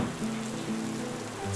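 Steady rain falling outdoors during a children's doll play scene, a soft continuous hiss of drops on a surface with faint tonal background, fairly even and close, no talking.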